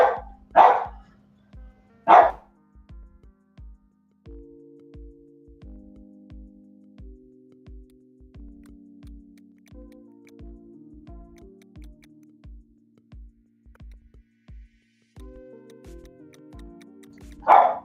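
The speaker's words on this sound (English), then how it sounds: "Can you talk while the dog's barking?" Dogs barking in short bursts near the start and again at the end, with a steady ticking and low tonal hum filling the quiet stretch between.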